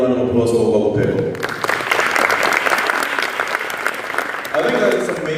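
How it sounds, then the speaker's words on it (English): A full round of applause from a summit audience, dense and loud throughout, rising from speech-like tones at the start and continuing steadily to the end. "Another round of applause for Bubble Pickle."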